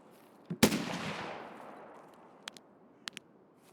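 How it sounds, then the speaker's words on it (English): A single loud gunshot in Escape from Tarkov with a long fading echo, followed by a few faint, sharp clicks and small impacts as the reverberation dies away. "Just gonna shoot real quick."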